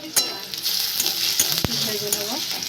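Garlic, green chili and onion fry in hot oil with a bright, close sizzle, broken by a few stirring scrapes and light clinks of a spoon against the pan.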